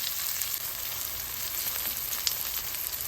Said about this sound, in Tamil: இப்போ தக்காளி கொஞ்சம் வதங்கட்டும்